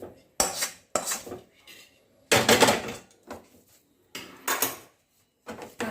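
A thick coconut mixture for narkel sandesh is scraped out of a metal pan in several loud, separate bursts of clattering utensil-on-pan noise, with quiet gaps between them and no talking.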